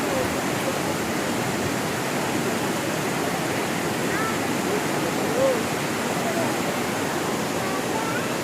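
Elephant Falls waterfall in Shillong, a dense steady roar of rushing water that fills the scene evenly and continuously, close and loud, with no breaks.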